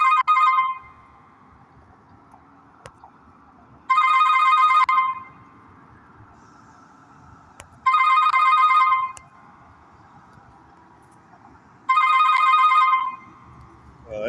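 A telephone rings in four evenly spaced bursts of bright trilling bells about four seconds apart, with quiet room noise between rings and no talking.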